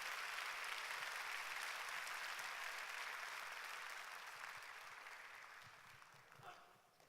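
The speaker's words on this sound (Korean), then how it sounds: "우리 목사님 나오실 때 우리 한번 뜨겁게 우리 한번 박수로 우리 한번 환영하도록 하겠습니다" A congregation claps steadily to welcome the pastor at a Sunday worship service, a dense and even round of applause that gradually thins toward the end, with no speech over it.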